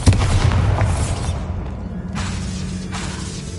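A Bombarda blast spell goes off in the video game Hogwarts Legacy, a loud booming burst with a crackling, shattering tail that fades into a low rumble over a few seconds.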